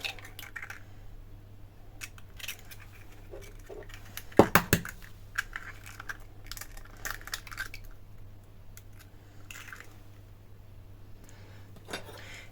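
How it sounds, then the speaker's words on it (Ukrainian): A few sharp, close clicks and cracks bunched together as two large chicken eggs are broken into a mixing bowl for lazy belyashi batter, with a faint steady hum underneath. "Сюди ж відправляємо два великі курячі яйця."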